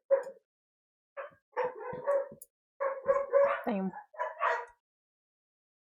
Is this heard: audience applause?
no